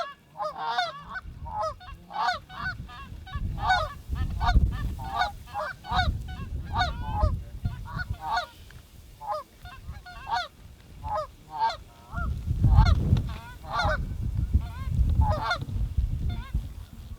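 A flock of geese honks repeatedly during a Michigan goose hunt, with many overlapping calls coming in quick, uneven bursts, loud and close, over low wind rumble.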